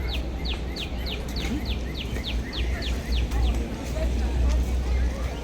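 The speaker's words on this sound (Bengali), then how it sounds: "পাখির কিচিরমিচির আওয়াজে মনটাই ভরে যায়।" Birds chirp in Central Park's Conservatory Garden in New York, a fast run of a dozen bright repeated notes and then quieter calls, over a steady low rumble of park and city background noise.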